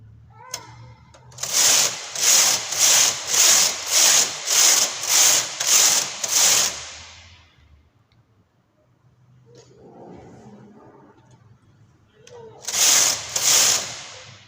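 A punch card knitting machine knits a patterned design, its carriage sweeping the needle bed in a rapid run of about eight even rasping strokes, then a pause with faint background sound, then two more close, loud strokes.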